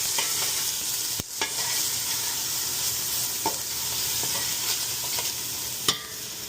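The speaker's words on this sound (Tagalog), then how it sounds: "So, mainit na yung ating mantika. Lagay tayo ng maraming garlic." Plenty of garlic hits hot cooking oil for a chicken tinola, giving a steady, loud, close sizzle with a few sharp crackles and pops scattered throughout and no talking.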